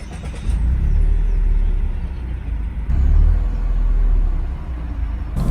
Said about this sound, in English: Let's hop in this 2020 Yaris Hatchback and go for a quick drive